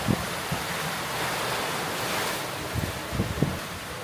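Open-ocean surf and wind rush around a sailing boat at sea as a large wave rolls toward it, a broad continuous roar with a few low thumps of water against the hull.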